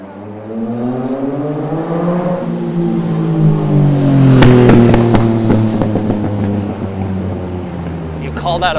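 A passing motorbike revs, its engine pitch rising as it approaches and falling away as it moves off, loud at the peak and heard from a moving rider in city traffic.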